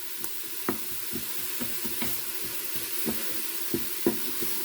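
Steady sizzling of food sautéing on high in an Instant Pot for lettuce soup, with soft stirring clinks and scrapes tapping at irregular intervals.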